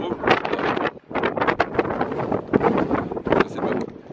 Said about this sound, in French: il y a beaucoup de vent maintenant